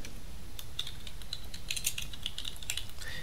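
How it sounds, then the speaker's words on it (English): Keys tapped on a computer keyboard while a name is entered during a software setup, a series of light, irregular clicks close by over a steady low background hum. "We'll just type in any name here."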